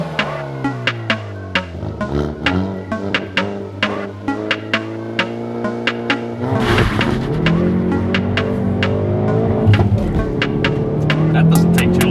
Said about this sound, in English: the Koreans are giving us what we actually want. A set of loud-ass exhaust pipes